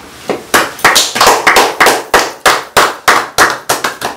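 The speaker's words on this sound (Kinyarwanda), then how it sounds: "noneho rero reka mbasabe mwese buri wese yiha amashyi." Audience at a Rwandan comedy sketch's meeting claps in a sharp, fairly regular run of loud, close hand claps, each crack distinct, with no talking over it.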